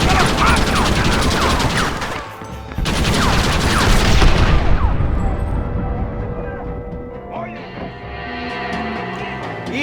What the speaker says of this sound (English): Use the cannon!